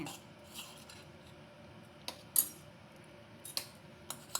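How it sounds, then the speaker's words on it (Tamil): Tomatoes are mashed in a boiling garlic curry, giving faint, scattered scrapes and clinks of a metal utensil against the pan over a quiet bubbling background. "தக்காளியெல்லாம் கொஞ்சம் இப்படி மசிச்சு விட்ருவோமே"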